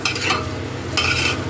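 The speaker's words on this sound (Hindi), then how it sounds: "देखिए ऐसे ही चलाते हुए सुखा लेंगे" Bathua greens being stirred in a pan to dry them out, with two bursts of spatula scraping against the pan over a low steady sizzle.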